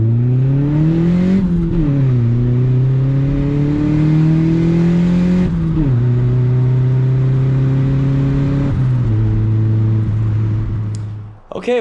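A turbocharged Honda Civic with a D16Y7 engine accelerating hard, loud and close, with rising engine tones that drop at each gear change across several shifts before cutting off at the end.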